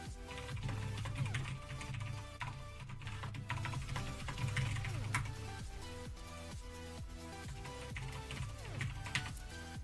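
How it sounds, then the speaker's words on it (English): Typing on a QWERTY computer keyboard, a steady stream of quick clicking keystrokes under a background of music. "You can type the words create server on a QWERTY keyboard entirely with your left hand"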